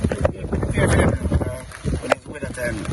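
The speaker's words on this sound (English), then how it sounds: "Oh, it's getting very windy right now, I can tell you." Strong gusting wind from Hurricane Beryl buffets the microphone in loud, irregular rushes and roars, with a couple of sharp knocks. A person talks over the wind throughout.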